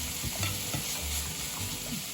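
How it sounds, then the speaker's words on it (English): Prosciutto sautés in a pan with a continuous close sizzle, and soft stirring shuffles run through the frying. "Just saute it a little bit"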